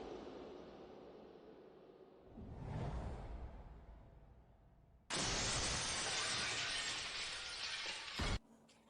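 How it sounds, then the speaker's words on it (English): A man falls back onto a glass coffee table and the glass shatters, a rising crash and rumble followed by a long, loud, bright burst of breaking glass that cuts off abruptly, with no talking. "pushes Min Hwan, who falls back on the glass coffee table"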